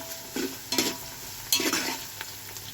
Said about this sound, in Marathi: कांदा चांगला गुलाबी झालेला आहे।